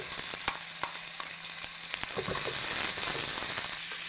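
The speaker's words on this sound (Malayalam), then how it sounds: "ഇനി സവാള ഇടുകയാണ്." Chopped onion goes into hot oil with crushed garlic, ginger and green chili for a beef curry, giving a steady close sizzle and crackle throughout, with a few faint spoon taps and no voices.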